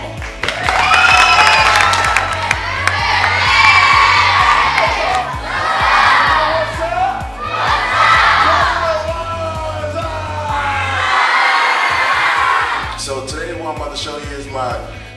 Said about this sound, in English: And now, give a big round of applause for Marty Bennett.